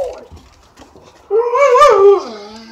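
A dog whimpers and whines at a door indoors, a faint whine at first, then a louder, drawn-out, wavering cry that slides downward, close by.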